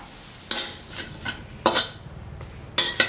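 A utensil stirs garlic and shallots dry-roasting in a pan, four or five quick scraping strokes against the metal over a faint sizzle, close and clear.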